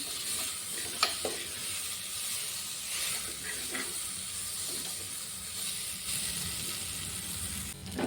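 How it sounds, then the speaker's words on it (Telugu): Lentils (dal) roasting in a pan for Malabar spinach dal, giving a steady, close sizzling hiss with a few sharp clicks from stirring, with no voices. "ఇలా వేయించుకోవడం వల్ల పప్పు టేస్ట్ మరింత పెరుగుతుంది"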